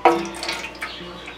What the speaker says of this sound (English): So I'm going to be using my distilled water here